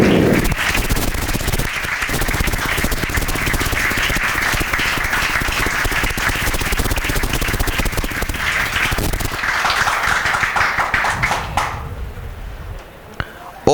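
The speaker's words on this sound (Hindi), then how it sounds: "बजाओ तालियां" A classroom full of students claps for a ranked pupil, a loud sustained burst of dense applause that holds steady for several seconds before thinning out and fading near the end.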